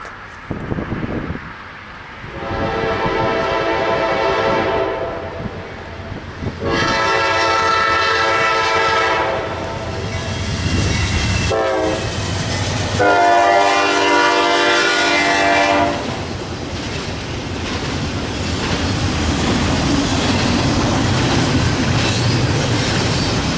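A Norfolk Southern intermodal train led by a -9 locomotive sounds its oddly tuned K5LA horn in several long chords, with rumbling engines and clattering wheels rolling past nearby between and after the blasts.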